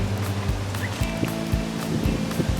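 Wind blows outdoors in a steady rushing roar, buffeting with low gusty thumps at irregular intervals.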